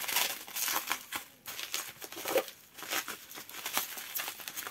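Crinkly plastic bubble wrap rustles and crackles in irregular bursts as a decorative object is wrapped, close by and moderately quiet, with brief pauses between handling.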